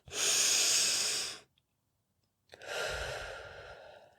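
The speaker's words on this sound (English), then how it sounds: "Deepen your breath" Two deep, slow meditation breaths close to the mic: a long airy exhale lasting over a second, a brief silence, then another long breath, with no talking.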